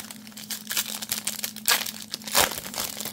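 A 2024 Topps Stadium Club trading card pack wrapper is torn open and crinkled up close, with bursts of crackling foil and two louder rips, alone without talk.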